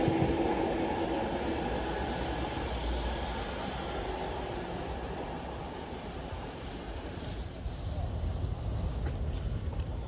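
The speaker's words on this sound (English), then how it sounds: "This is the 1410 Avanti West Coast service to Glasgow Central." An Avanti West Coast train bound for Glasgow Central runs past at Primrose Hill, a low continuous rumble and rolling rail noise that stays fairly steady and moderately distant, with no talk.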